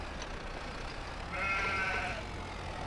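A single sheep bleats on a farm in the game Oak Bridge Farm, a short wavering cry rising above a steady low background hum.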